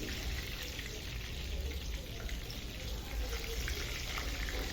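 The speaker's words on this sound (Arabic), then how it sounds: "هنحط بقى السمك البلطي كمان يتقلي" Tilapia fillets frying in hot oil give a steady, dense crackle and hiss that stays even and fairly close throughout, with no voices over it.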